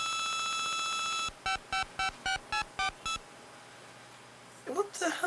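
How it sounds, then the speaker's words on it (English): A phone is dialed in the NES game Bill & Ted's Excellent Video Game Adventure: a steady dial tone, then seven quick evenly spaced dialing beeps. After a short pause, a voice starts talking. "Dialing the phone!"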